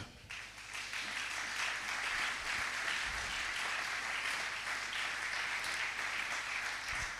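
A church congregation applauds during a French-language worship service, a dense, steady wash of clapping that carries on for several seconds over a low background hum.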